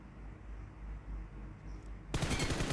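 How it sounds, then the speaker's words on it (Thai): Faint, distant PUBG Mobile gunfire rumbles low for about two seconds, then a sharper, louder burst of game sound cuts in abruptly near the end. "เสียงปืนมันแว่วๆ อยู่แถวนี้"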